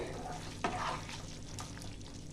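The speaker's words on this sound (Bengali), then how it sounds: "এক মিনিট ফুটবে, আমি ঢাকা দিয়ে দিলাম।" Paneer masala simmers under a lid in a pan for Bengali-style niramis cooking, a soft, faint bubbling hiss with one brief clink of the pot.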